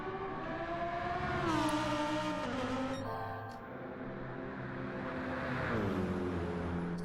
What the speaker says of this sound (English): He's now 14th as he drifts that Lamborghini